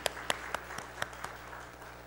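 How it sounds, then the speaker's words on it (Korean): Church congregation at a Christmas worship service gives a short round of applause, a few sharp hand claps in an even rhythm that thin out and fade, faint and distant. "하나님께 영광의 박수를 한번 올려드립니다."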